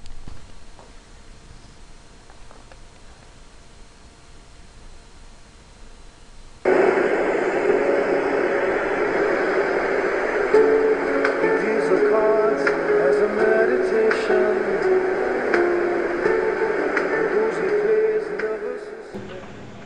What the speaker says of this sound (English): let's hear how does a music that is mixed with the pink noise sound like